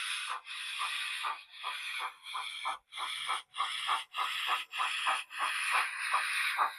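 A sound-fitted Rapido Hunslet 00 gauge model steam locomotive gives steady, evenly spaced chuffs, about two per second, each a breathy hiss of exhaust, heard alone and fairly close.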